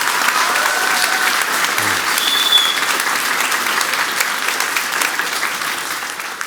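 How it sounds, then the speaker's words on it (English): An audience at an artist talk applauds warmly, a loud, dense and steady wash of clapping that holds evenly from start to finish. "A round of applause, please."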